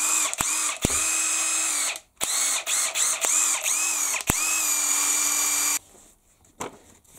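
A Bosch GDR 18V-EC brushless impact driver runs freely, with a series of short whining spin-ups and stops followed by a longer steady run of about a second and a half, loud and close, then quiet.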